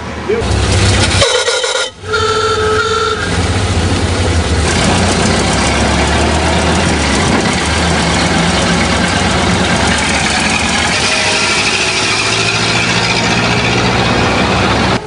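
A Ford Model A car engine idles at Bathurst with a steady low rumble close by, accompanied by some brief mechanical clatter near the start.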